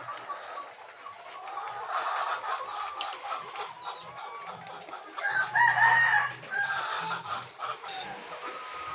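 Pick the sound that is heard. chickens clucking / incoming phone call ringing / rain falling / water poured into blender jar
chickens clucking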